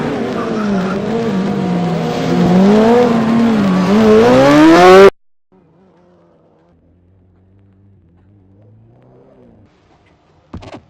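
A Formula SAE race car lays a patch in a burnout, its tires squealing loudly up close for about five seconds with rising, wavering pitch. The sound cuts off abruptly into near silence, and a faint engine hum follows.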